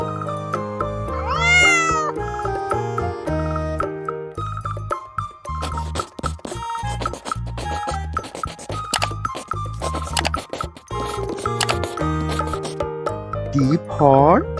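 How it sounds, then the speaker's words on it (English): A cat meows a couple of times over a bouncy musical backing, one near the start and another rising meow near the end. "C for cat."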